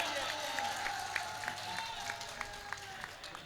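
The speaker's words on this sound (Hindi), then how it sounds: "एक बार जोरदार तालियां बजाइए" An audience claps at a poetry gathering, a steady wash of applause at moderate distance with a few sharper individual claps standing out, and a voice talking over it.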